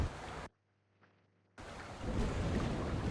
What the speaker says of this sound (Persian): صدای بارون هم به گوش میرسه